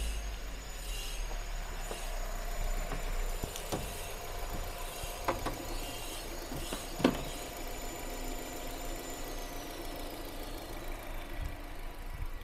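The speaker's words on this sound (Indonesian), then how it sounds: "Kipasnya udah hidup tuh." A car's radiator cooling fan running steadily with the engine idling, a constant near hum and whir with a faint high whine, occasional knocks and clicks, and no talk, in a check for a faulty thermostat.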